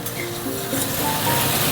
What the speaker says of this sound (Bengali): মিষ্টিটা দিয়ে নাড়াচাড়া করে নিই।